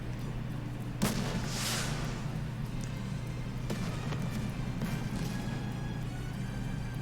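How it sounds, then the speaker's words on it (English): A rocket launcher shell fires and explodes across a snowfield in the game Nikke: one sharp blast, then a broad rumbling burst, trailing into a steady low hum with scattered faint thuds. "a shell flies from the rocket launcher."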